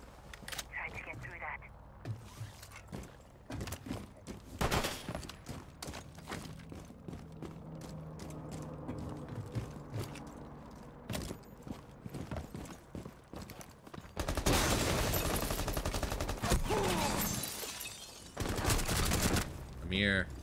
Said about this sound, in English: Delivers some shots in